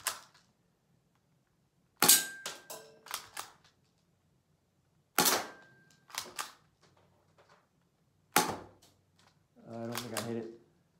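An airsoft pistol fires in several sharp, separate shots, each followed by the quick snap of a pellet hitting a target, with a person talking quietly between them.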